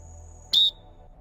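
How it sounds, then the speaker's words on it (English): A single short, shrill referee whistle blast at water polo, sharp and close, against a quiet background. "One short whistle can tell you it's just a common foul."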